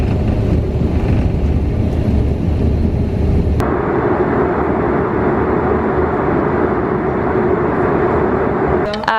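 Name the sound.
inside an airplane cabin while flying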